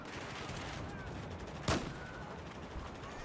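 Gunfire in the video game Battlefield 4, mostly one sharp shot standing out over a steady, noisy battlefield background.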